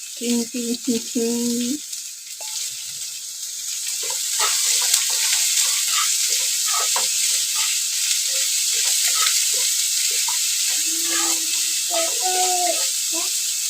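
Mushroom stir-fry being stirred in a pan, a continuous frying hiss with scattered scraping clicks from the spoon, while a voice is heard at the start and end.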